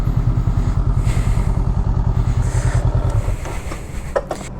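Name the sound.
Honda Rebel motorcycle riding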